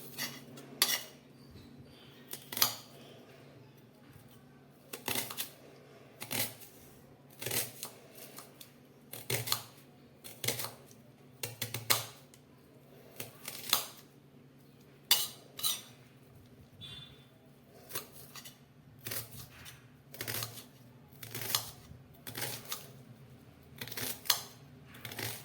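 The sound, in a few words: knife slicing onion thinly for mutton curry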